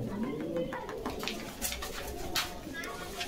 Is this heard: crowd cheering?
no